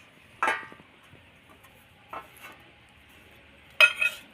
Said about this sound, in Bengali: এখানে রাখলাম একটা প্লেট